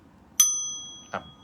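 A single bright mindfulness bell strike rings out clearly and slowly fades, followed by a short soft knock.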